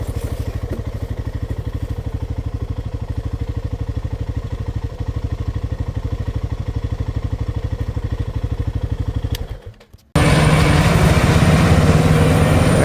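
A forage chopper harvests corn in a field, with a loud, steady, rapidly pulsing engine and machinery clatter that drops out abruptly near the end before a different, harsher burst of machine noise takes over.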